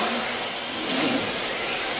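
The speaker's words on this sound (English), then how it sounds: "That was Maddie's car, dude" An HPI RC drift car's electric motor whines steadily at high pitch for two seconds, close and loud, with slight rises in revs and no talking.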